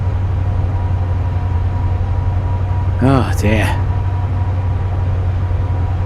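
A train locomotive in the Train Simulator game, climbing at full throttle on the South Wales Coastal route. It gives a loud, steady, low engine drone throughout, and someone briefly speaks over it.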